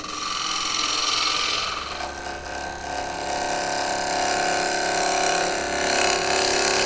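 Sanding the underside of a maple wood blank, a steady abrasive rubbing and whirring that carries on unbroken and fairly loud at close range, with a slight change in tone partway through.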